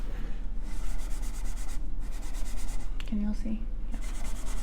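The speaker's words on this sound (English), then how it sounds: "I'm just rubbing it in there really, really good. And at the same time, the finishing pad kind of smooths out the wood." A finishing pad rubs finish firmly into a wooden furniture drawer, a steady close scrubbing hiss in quick back-and-forth strokes, with brief talk and a short beep over it.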